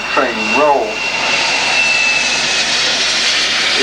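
A training airplane taking off at the Paris Air Show at Le Bourget, its engine a loud, steady roar that fills the whole stretch, with a voice speaking briefly over it at the start.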